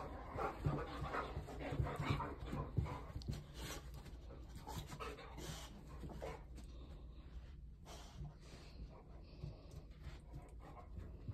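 A dog pants steadily and snorts close by, with a few soft whimpers and low growl-like noises, in a quiet indoor room.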